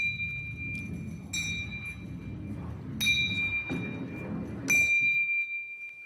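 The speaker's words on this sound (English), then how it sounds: "So we should hear the bells ringing at equal intervals in time." A ball rolling down a ramp produces a low continuous rumble, with small bells struck at roughly equal intervals that ring out as bright, clear dings, each one decaying over a second or so.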